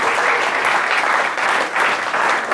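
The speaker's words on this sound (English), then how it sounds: "let's do a big round of applause for Jason Calvert." An audience at a startup talk applauds, dense sustained clapping that is loud and close and carries on steadily, with no voices over it.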